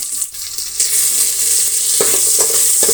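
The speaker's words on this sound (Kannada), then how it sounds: "ಒಗ್ಗರಣೆ ಒಂದು ಸ್ವಲ್ಪ ಚೆನ್ನಾಗಿ ಫ್ರೈ ಆಗಬೇಕು ಸ್ವಲ್ಪ ಕಪ್ಪಗೆ ಒಗ್ಗರಣೆ ಫ್ರೈ ಆದರೆ ಸಾಂಬಾರು ಒಳ್ಳೆ ಟೇಸ್ಟ್ ಆಗಿರುತ್ತೆ" Tempering for sambar, with mustard seeds, onion and curry leaves frying in oil, gives a loud steady sizzle, briefly dipping at the start, then a few spatula stirring scrapes near the end.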